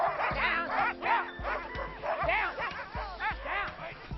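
Husky sled dogs at a working kennel yip, bark and whimper excitedly in quick overlapping bursts, close and loud, with a person's voice mixed in.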